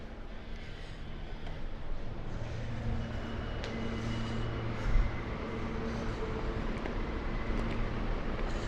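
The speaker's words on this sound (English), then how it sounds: "This is the end of the line for the E train." A New York subway E train idles at its end-of-line station, a steady low rumble and hum with faint rattles and a brief thump, heard from the platform without talk.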